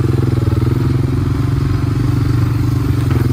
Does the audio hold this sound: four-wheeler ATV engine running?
yes